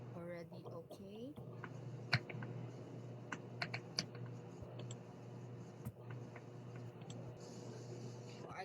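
Fingers type on a computer keyboard during an online English class, a steady patter of light, quick key clicks that is close and fairly quiet.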